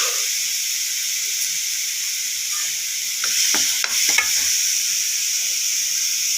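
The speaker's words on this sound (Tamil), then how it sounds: "நல்லா எண்ணெயிலே அந்த பேஸ்ட் நல்லா சுருன்னு வரைஞ்சிச்சு" Masala paste sizzles in hot oil with a steady bright hiss, followed by a short burst of louder crackling and a few stirring scrapes toward the end. Close and alone, with no voices.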